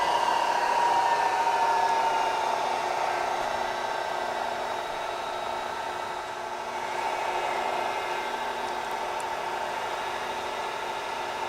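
A Bridgeport Series I EZ Trak CNC vertical mill, 9 by 48 inch and in excellent condition, runs its motor at about 2,800 RPM, giving a steady, close whine with a smooth mechanical hum and no speech.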